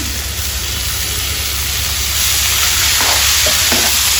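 Broad beans and chopped tomatoes sizzle steadily in a hot pan for a Telugu-style curry, a continuous close frying hiss with a few soft stirring scrapes near the end.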